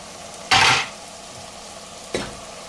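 Okra cooking in a pan for a pulusu, with a short loud burst of sizzling as ingredients are tossed in, a quiet stretch, then a brief second sizzle from stirring, close up.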